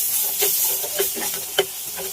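Curry masala being stirred and sautéed in a pan for Kerala mutton curry, a continuous sizzle broken by repeated scraping strokes of the spoon in an uneven rhythm, close and fairly loud.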